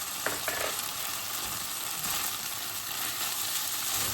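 Minced pork and potato stir-frying with a starch slurry, a close continuous sizzle with a few sharp spatula clicks early on, steady and fairly quiet.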